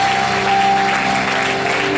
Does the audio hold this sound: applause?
yes